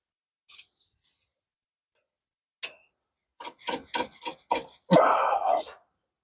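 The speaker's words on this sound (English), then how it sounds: "Let's go ahead and start taking these cotter pins out." Metal clicks and scraping as cotter pins are pried out of the front suspension of a 2013 RAM 1500 truck, a few sharp ticks followed by a burst of rapid rasping taps, close by with no talk.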